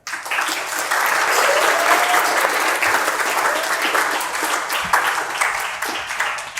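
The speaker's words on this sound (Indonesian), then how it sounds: "Tepuk tangan semuanya." A crowd at an Islamic youth event breaks into steady, dense applause, sustained and fairly loud throughout, with a faint voice or two under the clapping.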